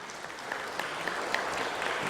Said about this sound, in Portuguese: Pedimos uma salva de palmas aos homenageados.